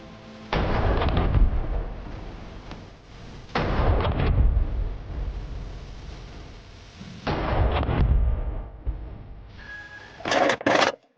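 AK-50 rifle gunshots, a few heavy booming blasts with long rolling echoes spaced several seconds apart, heard from a distance, followed by a brief sharper clatter near the end.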